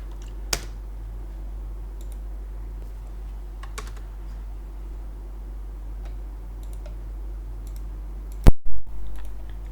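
Alt+Enter is pressed on a computer keyboard while writing Android code. A few faint, scattered key taps lead to a sharp, louder pair of clicks near the end over a steady low hum.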